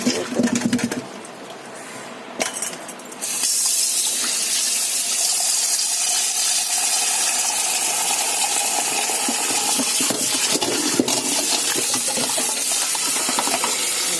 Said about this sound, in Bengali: তো এই সবজিগুলো এখন ধুয়ে নেব।